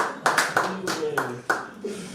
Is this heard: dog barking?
no